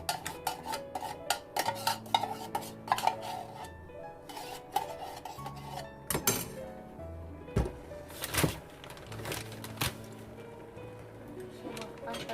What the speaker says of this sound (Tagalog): Halo-haloin lang siya dyan.